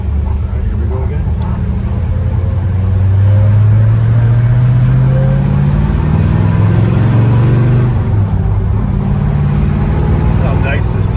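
A 1968 Plymouth Roadrunner classic muscle car cruising, its deep engine rumble and road noise steady and loud from inside the cabin, with pitch rising and falling gently as it accelerates.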